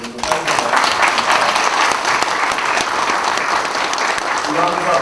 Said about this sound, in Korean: 우리 이해찬 당대표님께 커다란 박수 한번 보내드리도록 하겠습니다